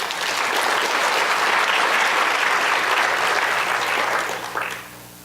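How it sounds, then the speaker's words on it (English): Applause from a crowd at a healthcare convention, loud and sustained throughout before tapering off at the end. "Give me a round of applause if you agree with it"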